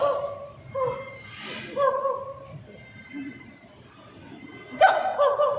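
A parrot at a Jurong Bird Park bird show imitates a dog barking, producing a few short, yappy bark-like calls close to the microphone, spaced apart, over a low crowd murmur.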